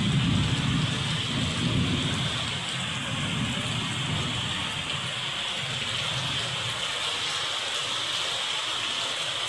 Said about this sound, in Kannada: ಗುಡುಗು ಮಿಂಚು ಸಹಿತ ಜೋರಾಗಿ ಮಳೆ ಬರ್ತಾ ಇದೆ ಮಂಗಳೂರಲ್ಲಿ